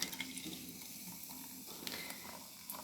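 Ginger beer being poured over ice for a Moscow Mule, a faint, steady liquid trickle and fizz that runs without a break, with a few soft clinks of ice near the start and end.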